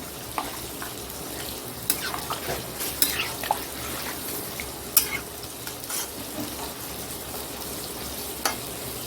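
Chicken curry frying in a pan just after a splash of water is added, giving a steady close sizzle with occasional clinks and scrapes of a stirring utensil.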